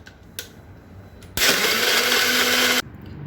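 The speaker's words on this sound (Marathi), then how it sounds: "आपण हे आता सगळं मिक्सरमध्ये फिरवून घेऊया." Electric mixer whirring loudly as it blends ice, milk, sugar and vanilla for iced coffee, one steady burst of about a second and a half, close and alone.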